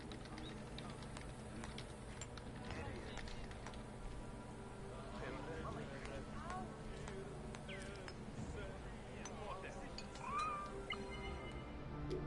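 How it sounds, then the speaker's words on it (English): Faint in-game ambience in Assassin's Creed Origins, with a soft cat meow near the end, quiet and brief, beneath a low murmur and talk. "Oh, a cat."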